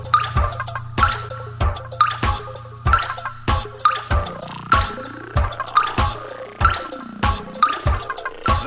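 Water drips from a tap in a slow, regular rhythm, each drop a sharp close plink about once every half second, loud and alone with faint liquid ringing between drops.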